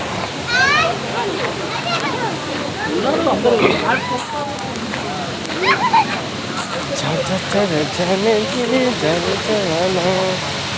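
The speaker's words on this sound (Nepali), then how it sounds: "पानीको झर्ना यसरी देखिरहेको" A waterfall pours steadily beside a restaurant at night, its broad wash of water running throughout under a busy hubbub of voices and nearby talk.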